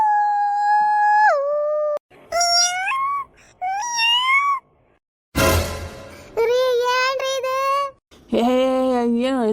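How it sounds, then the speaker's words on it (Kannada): Dogs howl in the night in long, wavering wails, several drawn-out cries rising and falling one after another with short silent gaps between, loud and close. "ನಾಯಿ ಬೇಕೆ ಚೀರತಾವು ಮತ್ತೇನಲ್ಲ"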